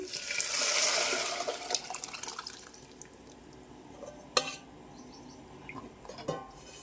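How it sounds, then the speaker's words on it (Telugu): Drumstick dal being poured into a pan of golden-fried onions, a brief wet splashing and sizzling burst at first, then quieter stirring with occasional scrapes and clinks of utensils. "ఇప్పుడు మునక్కాయ పప్పు ఇందులో వేసేద్దాము"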